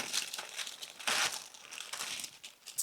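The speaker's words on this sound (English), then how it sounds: "It seems like my parchment is splitting as well" Parchment paper crinkles and splits in short, soft, rustling bursts at close range, with one louder tearing crunch in the middle and no talking.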